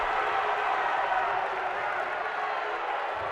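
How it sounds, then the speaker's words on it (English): A college basketball crowd in Troy for the RPI vs Skidmore tournament semifinal roars with a sustained, loud wash of displeasure after a charging foul, with no break in the noise. "And not a happy crowd here in Troy at that call"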